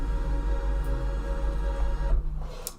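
An embroidery machine stitches on terry cloth with a dense, steady mechanical whir and low hum, cutting off abruptly near the end.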